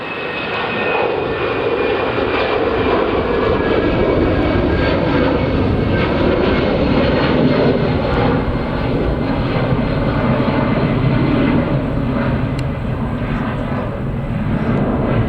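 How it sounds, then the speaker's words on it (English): An EasyJet Airbus A320 lands at Manchester Airport, its jet engines roaring loud and steady throughout with a broad, sustained rumble and no talk over it. "Landing now is an EasyJet Airbus A320 from Prague."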